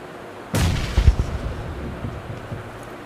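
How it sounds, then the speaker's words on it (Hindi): A single heavy shotgun blast in PUBG Mobile rings out sharply and loudly, then trails into a rumbling echo over steady background game noise, with no voices. "सेकंड बंदे को मैं शॉटगन से फेलूँगा,"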